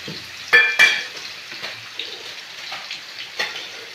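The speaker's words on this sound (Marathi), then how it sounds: "कांदा भाजतो या छानपैकी मस्त" Onion frying in a pan, a steady crackling sizzle with a few louder scrapes and stirring clatters near the start, then quieter sputtering with occasional spatula taps.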